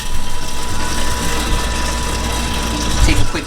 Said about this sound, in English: We'll turn on our motor, get that spinning in there.